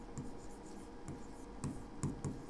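A pen writing by hand during a maths lesson, faint soft scratchy strokes in a few short bursts over quiet room noise.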